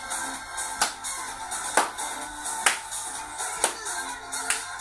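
Hands clap in time during an exercise routine, about one sharp clap per second, over quiet background music, with no talking.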